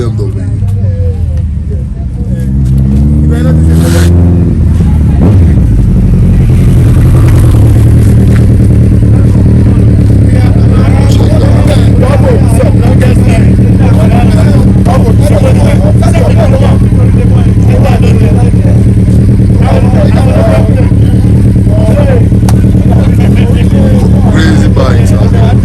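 Motorcycles rev at a bike stunt event, with a loud continuous engine drone and a rising rev near the start, under crowd chatter and nearby talking.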